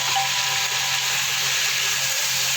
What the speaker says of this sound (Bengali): অল্প একটু লবণ দেবো, একটু হলুদ দেবো, দিয়ে আলুটা আমি ভেজে নেবো।